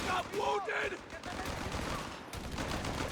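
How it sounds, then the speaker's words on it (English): Machine gun bursts in the real-time strategy video game Company of Heroes 3, aimed at an armored half-track: quiet, rattling gunfire in a distant battle mix, with a brief voice-like sound near the start. "Machine guns have been getting some solid bursts on the 250 though, doing quite a lot of damage to it"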